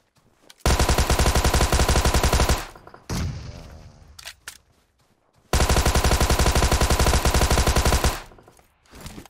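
Gunfire from PUBG Mobile rips out in two long, loud, rapid automatic bursts, separated by a short quieter gap with scattered single shots and fading echoes.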